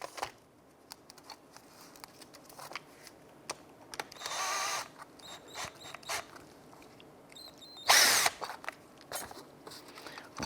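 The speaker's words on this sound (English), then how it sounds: "Using a number 12 socket, let's go ahead, remove our slider" A 12 mm socket tool works on the rear brake caliper slider bolts of a 2009-2015 Honda Pilot, giving short metallic ratcheting and clicking bursts with scattered quiet taps and a couple of louder buzzing spells.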